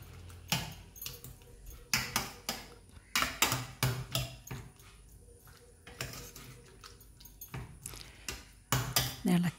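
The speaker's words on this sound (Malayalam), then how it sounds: "തുറന്നു ഇളക്കാം നമുക്കൊന്ന്." A spoon stirs a mixed vegetable curry in a pressure cooker pot after the weight is taken off, making irregular close clinks and scrapes against the metal in uneven bursts, with faint talk in the background.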